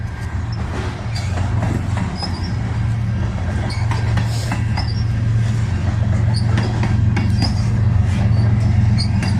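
A freight train hauled by an ES44DC locomotive with a distributed power unit rolls past close by, a loud continuous rumble of wheels and engine drone with clanks and occasional squeals sustained throughout.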